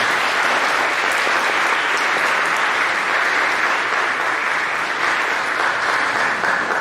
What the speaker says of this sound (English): please give a round of applause and thanks for everything they have done